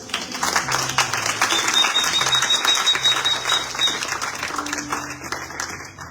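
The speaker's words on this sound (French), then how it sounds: "On acclame le Seigneur." A church congregation applauds during a French-language worship service, a sustained wash of crowd clapping with faint voices and tonal music mixed in.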